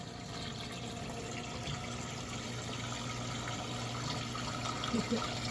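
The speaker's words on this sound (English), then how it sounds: "So it's going to fill up, and then it's actually going to try to do the rinse cycle where it would fill up, spin, and then it would drain" Water rushes steadily into a washing machine drum as it fills for the rinse cycle after a clogged drain pump was cleared, a continuous close-up wash of flow with a low mechanical hum.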